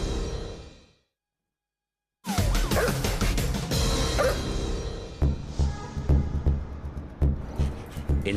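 A police dog, part of a drug-search dog squad, barks and yips after a brief silence, with bursts of clattering and rustling as it hunts, plus a sequence of sharp, close barks toward the end.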